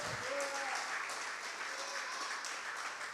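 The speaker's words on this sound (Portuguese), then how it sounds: "Você pode aplaudir ao Senhor nesta noite." A church congregation applauding during an evening service, a faint, steady patter of many hands clapping at a distance, with a voice briefly audible underneath.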